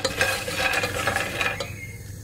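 Peanuts are dry-roasted in a pan and stirred, giving a steady near rustle and scrape that briefly quiets at the end.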